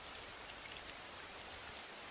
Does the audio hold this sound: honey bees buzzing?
no